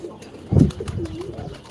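A low, throaty pigeon coo rises briefly and trails off, fairly close, over faint background noise.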